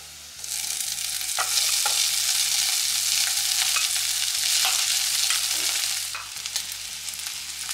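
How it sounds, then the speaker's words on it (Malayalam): Cooked mussels with coconut tipped into a pan of browned shallots, sizzling loudly and steadily at close range while they are stirred, with faint scrapes, and the frying eases off near the end. "ഇനി ഇതിലേക്ക് നമ്മൾ വേവിച്ച് തേങ്ങയൊക്കെ ഇട്ട് വെച്ച കല്ലുമ്മക്കായ ഇട്ട് കൊടുക്കാം."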